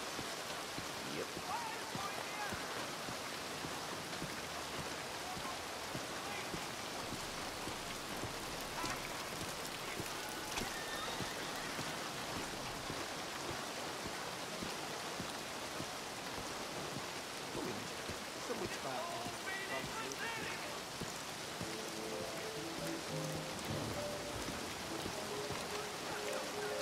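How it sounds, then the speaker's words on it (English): Heavy night thunderstorm rain while walking in Red Dead Redemption 2, a dense, steady hiss and patter that continues unbroken throughout, with no clear thunderclap standing out. "I might have to swim home with all this rain."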